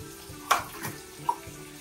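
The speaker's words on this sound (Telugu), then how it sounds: "గ్లాస్ నొక్కి 2 గ్లాసులు వాటర్" Water runs from a tap into two glasses indoors: a short, quiet pour with a couple of faint clinks and splashes.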